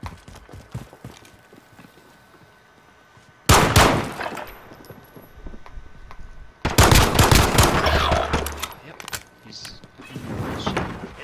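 Two loud bursts of rapid automatic gunfire from shooting enemies in a video game stand out against a quieter stretch of game sounds, with players' voices talking throughout.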